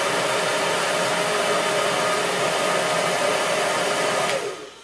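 A hair dryer running on a Cotek SP-700 pure sine wave inverter blows with a steady, loud broadband whoosh, then cuts off and winds down in the final half second.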